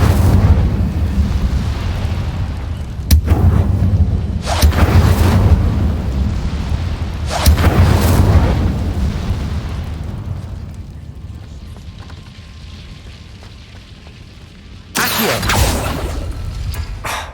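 The Incendio fire spell in the Hogwarts Legacy video game erupts in loud, roaring blasts with a sustained fiery rumble, and sharp bursts flare up repeatedly before a final surge.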